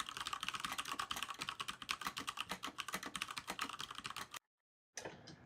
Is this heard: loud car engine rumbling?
no